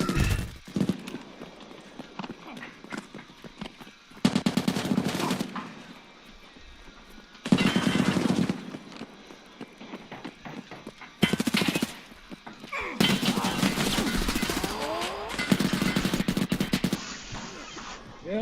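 Shotgun blasts and other gunfire in a video game come in several loud, separate bursts, with quieter stretches of game sound between them.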